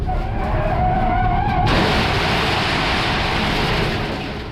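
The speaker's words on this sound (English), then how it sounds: "I decided to come in a bit too hot and those rear tyres just let go." A race car with worn rear tyres skids into turn one at Phillip Island, a loud sustained squeal and scrub that gives way to a broad rushing roar as the car slides on, with no voices.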